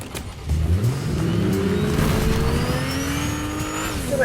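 A car engine in Fortnite revs up steadily, pitch climbing as it accelerates, loud and continuous with a droning whine throughout.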